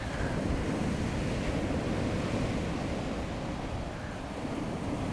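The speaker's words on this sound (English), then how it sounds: "the sound of the wind here is just insane. There's just like a constant roar under everything." Strong wind roars steadily by the sea, a dense, constant rush blended with breaking waves and buffeting against the microphone, loud and unbroken throughout.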